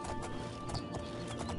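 A horse's hooves clip-clop in the game The Elder Scrolls IV: Oblivion, a quick rhythmic run of close hoof strikes on the ground, loud and continuous, with no talk.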